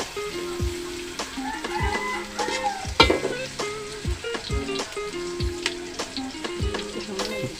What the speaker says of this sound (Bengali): আচ্ছা, এটা একটু ভাজতে থাকো।